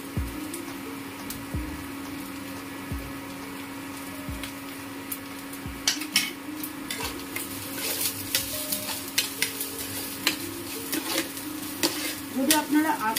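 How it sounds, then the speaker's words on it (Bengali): Whole garam masala spices sizzling in a hot pan while cooking chirer pulao, a steady frying hiss with scraping and stirring clatter from a utensil that grows busier toward the end. "গোটা গরম মশলা, সেগুলো আমি দিয়ে দিচ্ছি"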